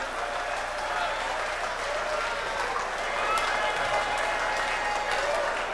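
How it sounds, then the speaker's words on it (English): An audience breaks into sustained applause, a dense wash of clapping heard at moderate distance with crowd noise and some talk mixed in. "You're supposed to clap"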